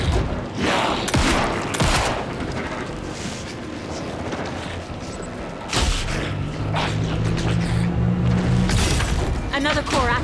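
Repeated gunfire from a firefight in the video game Alan Wake 2, with bursts of shots and booming impacts spread across the clip over a constant dense game soundscape, while a player talks throughout.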